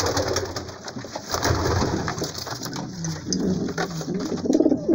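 Pigeons cooing steadily in a dovecote where nesting birds sit on their eggs, a continuous layered murmur of several birds close by with no talking.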